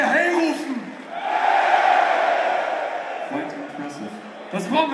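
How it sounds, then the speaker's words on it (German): A festival crowd at an open-air metal concert shouts "Hey" together on cue, a loud, sustained mass roar of many voices that swells, holds, and fades with scattered whoops near the end. "Könnt ihr Hey rufen?"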